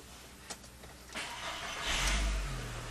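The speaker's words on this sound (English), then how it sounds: "We're going to start the car." An Audi or VW car with a 09G automatic transmission starts up: a brief click, then the engine cranks and catches, swelling into a loud low rumble that settles into a steady idle.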